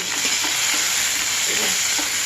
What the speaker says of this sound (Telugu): పెద్దలపాయ ముక్కలు 5-6 పచ్చిమిర్చి చక్కగా బాగా వేగాలి